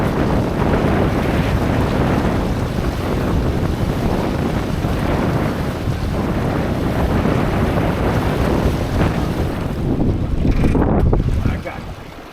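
A Pathfinder sailing dinghy runs under full sail, with continuous loud wind buffeting and the rush of water and waves along the hull, steady throughout and easing near the end.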